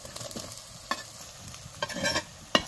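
Finely chopped potatoes stirred into onion and turmeric frying in a pan, giving a steady sizzle broken by several scraping stir strokes, close and clear with no talking.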